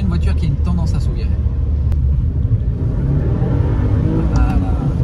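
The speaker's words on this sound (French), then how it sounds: "je suis obligé d'accélérer dans le virage pour avoir le survirage" A 2018 Subaru Impreza WRX engine accelerating hard through a corner on a wet road, heard as a loud, continuous low rumble and rising engine note with a voice talking over it.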